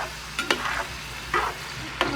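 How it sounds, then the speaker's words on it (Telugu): Rice frying in a pan for a chicken pulao, a soft steady sizzle broken by a few short scraping stirs of a spoon, close by with no talk. "బాగా ఫ్రై అవ్వాలి"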